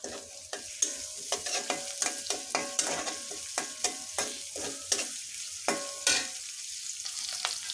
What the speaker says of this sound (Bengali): আমার পেঁয়াজ ভাজা শেষ